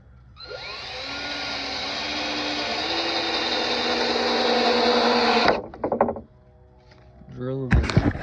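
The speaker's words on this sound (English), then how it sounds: "Drill them in." A power drill drives a 2.5-inch Phillips head screw into wood with one long, rising whine lasting several seconds, then stops, followed by brief clattering handling noises and short bursts of movement.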